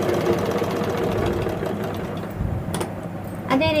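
A sewing machine stitches the shoulder seam of a nighty made from an old saree, a quick steady mechanical whir and knock that stops and restarts near the end.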